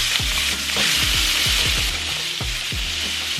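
Peppers hit a hot frying pan with a loud, constant sizzle, while repeated utensil scrapes and knocks sound close by throughout.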